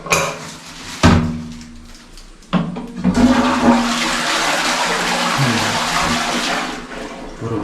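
Water rushing from a toilet cistern tank in a house under construction: a couple of sharp clunks first, then a loud, sustained gushing flush that fills the rest of the clip, with no talk.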